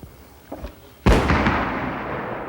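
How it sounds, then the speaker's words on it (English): A bomb hidden in a cardboard box detonates inside a car: a couple of faint pops, then one sudden loud blast that rolls into a long, roaring, slowly fading rumble. "But what happens when a bomb explodes?"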